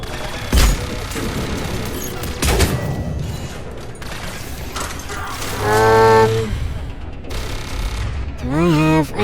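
Turret gunfire in Mass Effect 3, with bursts of rapid mechanical shots and clanking against game noise, plus tonal whining effects near the end.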